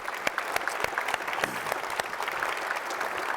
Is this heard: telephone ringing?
no